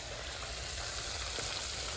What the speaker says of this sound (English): get our okra frying